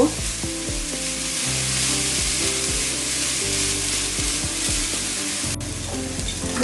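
Ginger-garlic spice paste sizzles and spits in a hot pan, with a spoon scraping and stirring now and then, close by and steady.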